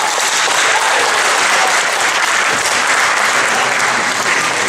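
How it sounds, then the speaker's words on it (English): Loud, sustained applause from a school audience after a debate speech at a spring celebration, dense and even clapping filling the room without a break. "I think they deserve a bigger round of applause, everyone"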